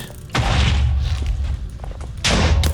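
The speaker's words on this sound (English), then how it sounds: "Looks like it just causes an explosion but doesn't destroy any blocks." A detonate ability in modded Minecraft sets off a loud, booming blast with a deep rumble. A second heavy burst hits near the end, both close and dominant.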